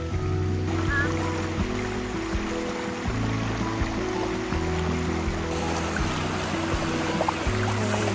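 Water flowing in a stream in a rainy mountain forest campsite, a steady continuous rush heard up close, with a low layered hum running underneath throughout.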